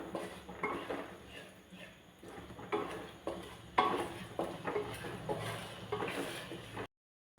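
Pasta sauce with tomato and soy sauce being sautéed in a pan, heard as repeated spoon scrapes and clinks against the pan over a soft sizzle, close and moderately loud, ending in a brief silence.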